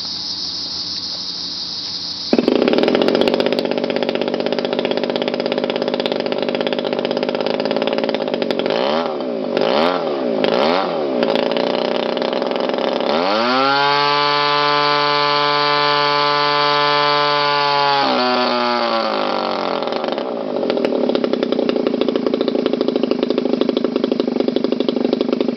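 A DLE-30 30cc gas engine with an APC 18x6W propeller runs on a test stand, loud and close. It buzzes at idle, then the throttle is blipped several times and it roars up to a sustained high-rpm whine before dropping back.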